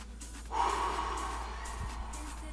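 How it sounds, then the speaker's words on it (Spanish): A long, steady exhalation pushing out all the air after a held breath during a slow breathing exercise with the arms lowering, a soft breathy rush close to the mic in a quiet room. "y boto todo el aire"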